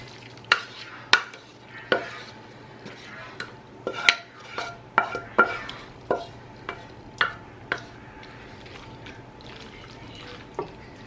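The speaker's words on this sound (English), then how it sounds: "we're gonna start by dumping the noodles with the tuna and the cream sauce" Egg noodles, tuna and cream sauce being stirred and scraped for a casserole, with repeated sharp clinks of a utensil against a dish in an irregular rhythm, close and fairly loud, with no talking.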